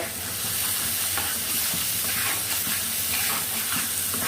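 Spice masala fries in a pan for pangas fish curry, a loud, dense sizzle and steamy hiss with scraping stirring strokes throughout, close up and without speech.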